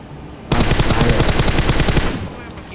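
Rapid automatic gunfire from PUBG Mobile, a loud sustained burst of closely spaced shots lasting about a second and a half before cutting off, with a brief ringing tail.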